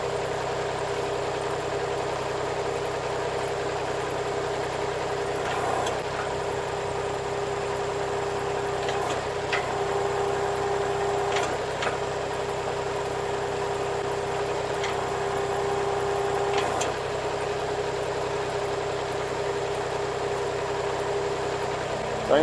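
A Kubota L3301 tractor fitted with an LA525 loader idles, its engine holding a steady, even hum throughout with only a few faint clicks.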